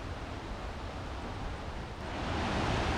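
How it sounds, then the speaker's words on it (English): Waterfall in a Norwegian national park, a steady broadband roar of falling water that swells louder toward the end, heard from nearby with no talking. "I think we are getting closer to the waterfall."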